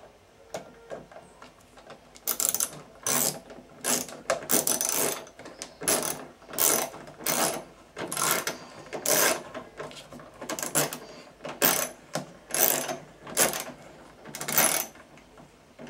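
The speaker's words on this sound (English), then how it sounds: "I'm going to put in now the second screw." A screw being driven in while a freezer thermostat is replaced: a close, steady series of about fourteen ratcheting clicks from a hand screwdriver, each turn a sharp metallic burst with short pauses between, no talking.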